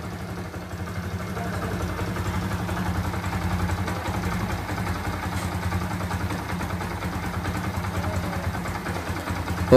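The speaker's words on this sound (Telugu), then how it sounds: "ఒకసారి అయితే చూడండి మనకైతే ఇంజన్ సౌండ్ అయితే పర్ఫెక్ట్గా వినండి." A Honda motorcycle idles after fresh engine fitting, a steady low mechanical hum with even pulsing, close up and continuous throughout without any talk.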